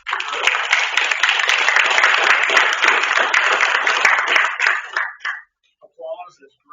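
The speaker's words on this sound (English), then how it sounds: "so I want to give a hand for her." Church congregation at a Sunday service applauding a recent high school graduate, a loud, dense burst of clapping that holds steady for about five seconds, then stops abruptly, followed by brief quiet sounds.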